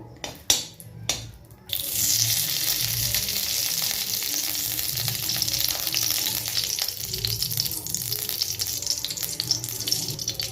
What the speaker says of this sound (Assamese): ইয়াতে ঘিউ দি দিছো কেৰাহীটোত।